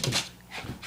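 A dog pants in quick, short breaths while jumping, close and fairly loud, a brief burst of huffing exhalations.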